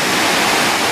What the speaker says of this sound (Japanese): 美瑛川です。